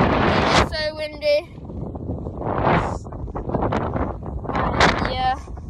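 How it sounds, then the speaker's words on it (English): Gusting wind blows across the microphone in loud, rough bursts at a beach by the ocean, with short whistling tones and people talking briefly in between. "Because it is so windy."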